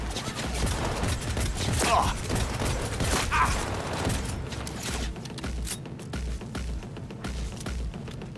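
Sniper and rifle gunfire rattles in the video game Cyberpunk 2077, with bursts of shots and booming impacts amid dense, loud game ambience and mechanical noise, with a voice briefly heard.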